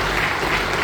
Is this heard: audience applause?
yes